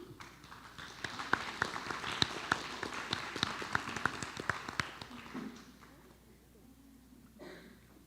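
Scattered applause from attendees at a school board of education meeting, a few minutes of sharp individual claps from a modest group that thins out and fades, with faint talk afterward.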